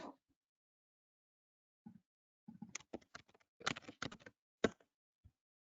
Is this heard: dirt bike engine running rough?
no